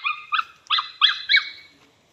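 A loose dog barking on a farm, five quick high-pitched yelping barks in a close, rapid run.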